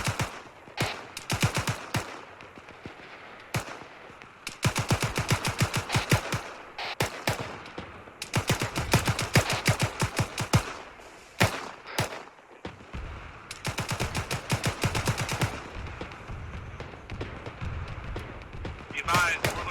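Rapid bursts of heavy cannon fire in the video game Arma 3 crack in dense volleys, stopping and starting in clusters, with occasional voices in between.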